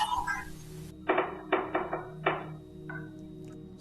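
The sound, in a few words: knocking on a door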